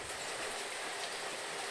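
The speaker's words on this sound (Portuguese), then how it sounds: "Mais de 7 horas da manhã, graças a Deus, chovendo bem." Heavy rain pours steadily during an early morning downpour in the dry backcountry, a dense, continuous hiss with no pauses, loud and close throughout.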